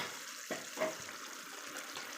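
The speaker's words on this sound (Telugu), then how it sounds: "ఆ జార్లో కొంచెం వాటర్ తీసుకొని వాటర్ వేసేసుకోవాలి" Water poured from a mixer jar into a simmering chicken curry, a soft steady pouring and splashing sound heard close and alone.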